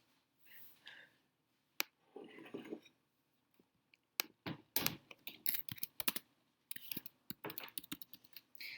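Keystrokes on a computer keyboard come in quick uneven bursts of sharp close clicks, with a few isolated taps and short pauses between runs.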